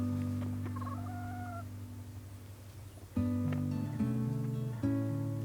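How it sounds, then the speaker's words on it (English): Several chickens cluck in a coop made of pallet wood with shingles, giving overlapping, tonal calls in uneven bursts that grow louder partway through, close to the listener. "Silly chickens."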